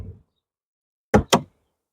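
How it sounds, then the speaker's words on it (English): Car door on a Land Rover Discovery 300tdi slammed shut, two quick, loud, solid thuds in close succession after a brief moment of silence. "let me slam the door"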